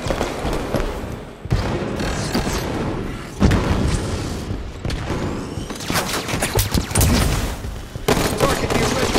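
Halo 5 multiplayer gunfire fills the scene with dense bursts of automatic fire and booming impacts, loud and nearly nonstop, while voices call out over the shooting.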